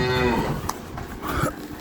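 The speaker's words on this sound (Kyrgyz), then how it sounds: "Уй аябай мыкты уй" A dairy cow being offered for sale with her twin calves lets out a short, low moo close by near the start, followed by quieter breathy rumbles.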